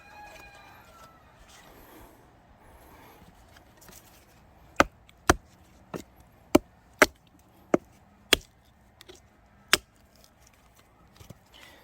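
A fig tree branch damaged by longhorn beetle larvae is cut with pruning shears, giving about eight sharp, separate snips spaced roughly half a second apart over faint outdoor background.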